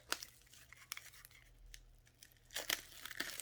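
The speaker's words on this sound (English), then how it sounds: "Let's take the shrink wrap off of that." Shrink wrap being torn off a Tainted Grail advancement pool card deck, heard as faint, crisp bursts of tearing and crinkling plastic with quiet gaps between them.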